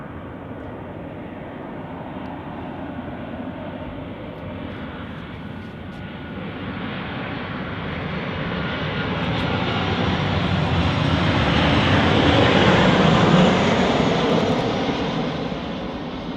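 A Ryanair Boeing jet in a Dreamliner-style livery lands at Manchester Airport, its engine roar swelling from distant to loud as it nears and touches down, with no talk.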